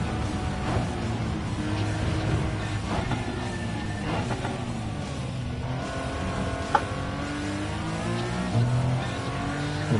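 A road car racing at Le Mans in Gran Turismo 7 holds a loud, continuous engine note that climbs and drops through gear changes, with brief tire squeals and skids along the way.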